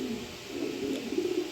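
A pair of club racing pigeons from a fancier's loft coo in low, rolling, continuous murmurs, close and moderately loud with no voices.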